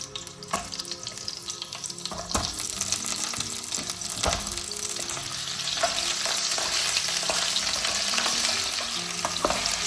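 Potatoes frying in plenty of hot oil in a pan for a chicken dish with eggplant and zucchini, a steady close sizzle with occasional stirring clatters throughout.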